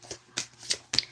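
A deck of cards shuffled by hand on a bed, giving a few quick riffling bursts in a short, close, soft burst of papery flutter with no voices.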